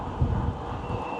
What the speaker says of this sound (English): It's really windy down in here